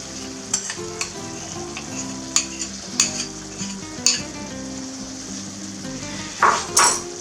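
Flour mixture is stirred in a hot frying pan for caramelized chicken with clementine, steady sizzling frying under a series of sharp utensil scrapes and taps against the pan, close and fairly loud, with no talking.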